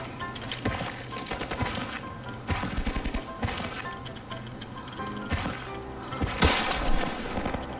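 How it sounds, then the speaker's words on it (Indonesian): Rapid bursts of video game gunfire crack in irregular volleys, sharp and close, with a heavier impact near the end. "Ada tembakan lagi."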